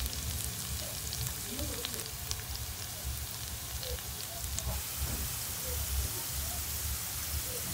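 Steady crackling sizzle of potatoes frying in a pan, a dense hiss with scattered pops throughout, moderately loud and close.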